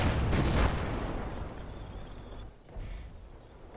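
Artillery fire in the game Company of Heroes opens with a heavy, booming burst up close, then fades into a rumbling low tail with a fainter thud near the end.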